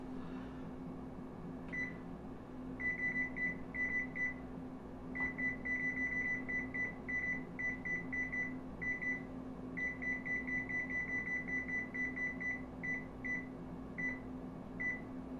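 A kitchen oven beeps as a pumpkin cheesecake goes in to bake, giving a long series of short, clipped electronic tones in uneven bursts, moderately loud over a steady low appliance hum.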